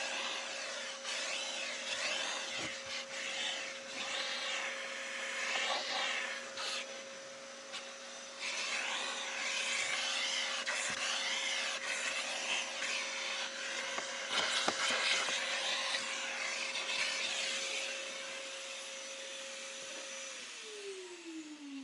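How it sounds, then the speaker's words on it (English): A vacuum cleaner fitted with a micro brush cleans a Shelby GT350 car interior, a steady close whine with scraping and rubbing as the brush works, ending as the motor winds down. "Use the standard crevice brush, use the micro brush attached to the vac"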